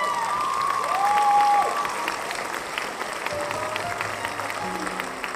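A live concert crowd applauds, a sustained wash of clapping and cheering that swells briefly and then settles into steady applause.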